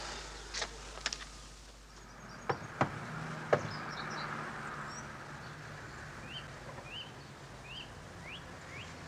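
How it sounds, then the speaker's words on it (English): A few sharp knocks rap on a door, with two early taps and then three separate louder knocks, followed by quiet outdoor ambience with faint birdsong. "Hey, knock again, Jack."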